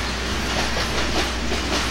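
A Conrail freight train runs on street-running track in Warsaw, Indiana, passing close by with a loud steady rumble and rhythmic clickety-clack of wheels on rail joints, and no talking.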